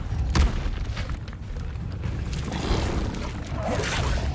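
An Expelliarmus spell in Hogwarts Legacy hits with a loud, sharp blast at the start, followed by a rumbling, whooshing combat bed and softer thuds and swishes that carry on to the end.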